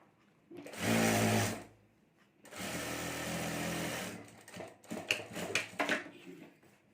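A sewing machine stitches a sling bag in two sustained whirring bursts, then runs in quick short stop-start pulses, close and clear with no talk.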